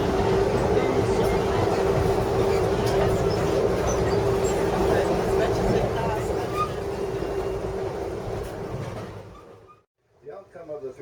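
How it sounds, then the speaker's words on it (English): A fast freight train rushes past with a steady, loud roar and rumble that fades out toward the end. "Freight train, going so fast."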